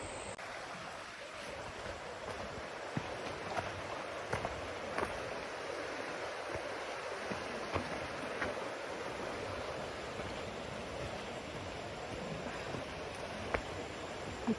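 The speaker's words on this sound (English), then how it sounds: "I'm going to show you the beautiful waterfalls, the Hemlock Gorge" Waterfall at Hemlock Gorge roars as a steady, broad rush of falling water, constant and moderately distant, with no voices.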